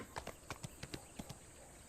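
Hoofbeats of a fast horse galloping in Black Desert, a steady clip-clop rhythm of sharp, fairly quiet strikes, with no other sounds.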